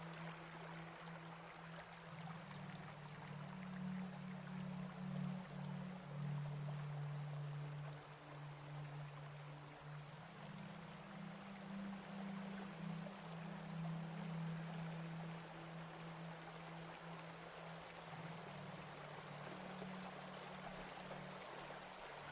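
River water flows steadily across a Himalayan valley in spring, a continuous rushing wash with a low churning rumble, close and even throughout without pause.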